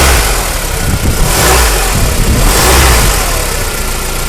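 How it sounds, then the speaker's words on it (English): 2000-2005 Honda Civic engine with a cracked rubber motor mount, revved with gas, a loud, close, continuous roar that swells and holds. "So he's going to give it a little gas now."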